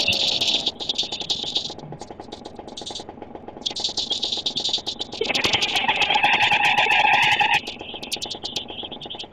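Scooter engine in a mobile role-play driving game, a steady idling drone with rattly revving that swells and then holds a louder, higher-pitched whine before easing back, heard alone without talk.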